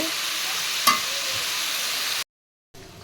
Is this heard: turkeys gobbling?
no